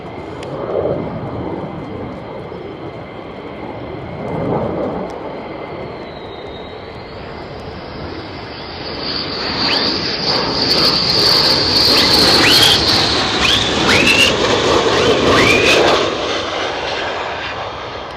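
F-35 fighter jets fly low over RAF Lakenheath, their engines rumbling and then building into a loud, roaring whine that swells in the second half with high tonal sweeps as they pass close by.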